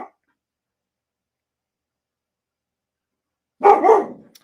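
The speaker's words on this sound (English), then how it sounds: "She barks at everything." A pet dog gives a short burst of barking, a quick close pair of barks near the end after a long silence, with no voices.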